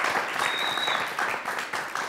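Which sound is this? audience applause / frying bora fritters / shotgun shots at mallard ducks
audience applause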